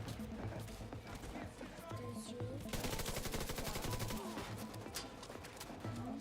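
Heavy machine gun fire in the looter shooter The Division 2, a steady rapid rattle of shots that swells into a fast, dense burst midway, set against ongoing game sound.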